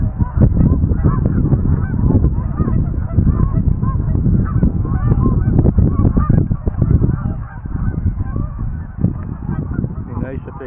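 Two wild geese honking outdoors, loud and close, with dense, continuous calls that overlap steadily throughout.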